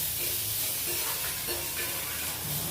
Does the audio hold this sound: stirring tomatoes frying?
yes